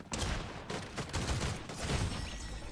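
Rapid bursts of gunfire from a gun in the video game Fortnite crackle in a dense, continuous volley, fairly loud with no talk over it.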